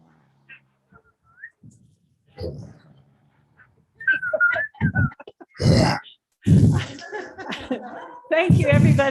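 An audience at an energy policy dialogue whistles together like an orchestra, with scattered short whistled notes and phrases that build into louder group bursts, mixed with laughter and chatter.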